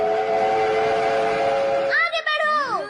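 A steady, loud train whistle from the Human Railroad Set gadget in the Doraemon cartoon, held for about two seconds before voices with bending pitch take over at the end.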